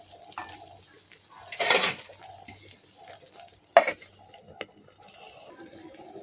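Goat tripe frying on a stove for a bot puri recipe, a soft steady sizzle with light stirring scrapes and two louder bursts of spattering frying noise, fairly close and with no talking.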